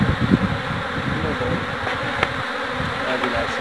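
Honey bees buzz in a dense, steady hum during a hive inspection right after swarming, close up and continuous, with a few faint bumps and handling noises underneath.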